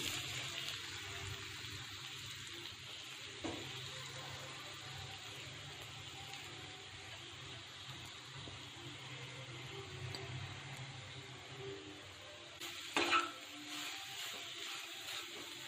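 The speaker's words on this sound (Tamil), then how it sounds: "இப்போ இதே நெய்யிலேயே நம்ம துருவி வச்சிருக்கிற கேரட்டை சேர்த்துக்கலாம்." Grated carrot frying in ghee for carrot halwa, a steady close hiss like light rain that runs throughout, with a few soft clinks of stirring near the end.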